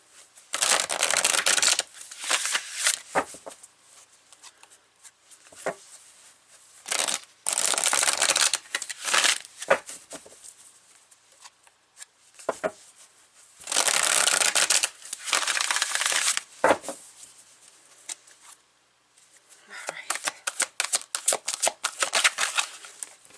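Tarot cards are shuffled and pulled in bursts, with riffling and rustling flurries separated by short pauses and softer taps and slides, close up with no talking.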